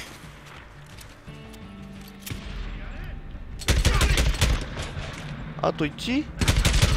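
Bursts of gunfire in the video game Days Gone, loud broadband cracks in a rapid cluster, with a voice speaking briefly over the shooting.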